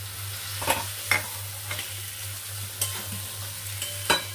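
Two large tomatoes, chopped small, sizzle in a pan of fried spice paste for a fish-head chhyachra, a steady close frying hiss under a low hum, broken by about half a dozen sharp spatula stirs and scrapes, with no talking.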